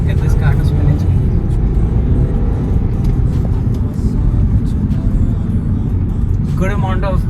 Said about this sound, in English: this car is wheel spinning like crazy